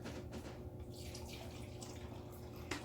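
Apple juice with no added sugar is poured from its container into a tiny bowl, a soft, quiet trickle with a few faint splashes and drips.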